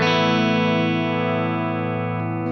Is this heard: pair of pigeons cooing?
no